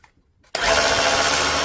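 A DeWalt cordless drill in drill mode whirs to life after a moment of quiet, running at a steady high-pitched whine close up.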